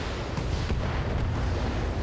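Mech explosion in the Battletech video game, a continuous loud rumbling roar with dense low-end crackle filling the whole moment, with no talk over it.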